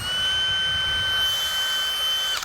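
A DeWalt cordless drill bores with a 1 inch spade bit in the cold, a steady high motor whine running continuously at moderate level before cutting off abruptly at the end.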